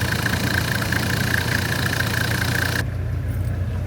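A Toyota 1HZ diesel engine idles steadily after an 11mm boost compensator was fitted, a constant close drone with a droning mid tone that drops away sharply near the end.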